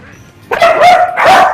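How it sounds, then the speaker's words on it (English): Terriers bark twice indoors, loud and close, after a moment of quiet. "What kind of dog do you have? I have terriers, if you can tell"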